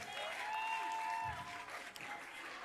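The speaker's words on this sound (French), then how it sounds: "Est-ce qu'on peut encore applaudir pour lui" Audience applause at a Congolese gospel singing competition semi-final, a steady wash of clapping filling the room for a few seconds, with a brief low thump partway through.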